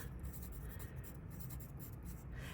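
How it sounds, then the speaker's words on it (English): A pen or pencil scratches on paper while a name is written, a close run of short rhythmic strokes, quiet and alone. "So we are going to first write our name at the top."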